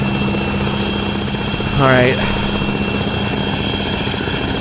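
A helicopter in the Arma 3 video game thrums with a steady rotor drone throughout, its pitch sweeping briefly as it draws near, while someone speaks a few words over it.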